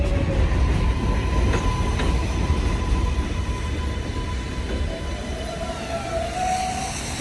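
A train rumbles steadily along an elevated track above a snowy New York City street, its wheels grinding and faintly squealing in a continuous loud roar throughout.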